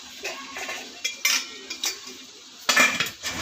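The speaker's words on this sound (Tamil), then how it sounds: "இப்போ மூடி வச்சிடலாம்" Metal cookware clanks several times up close, a lid set down on a pot of fish curry with sharp clinks and a final louder rattle.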